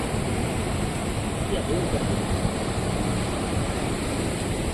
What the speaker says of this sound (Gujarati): આમ આમ મોજા તો જો તમે કેવા મોજા ભાંગે તેને જો